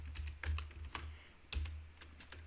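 A few spaced keystrokes sound on a computer keyboard as code is entered, quiet and close, with irregular taps over a low background hum.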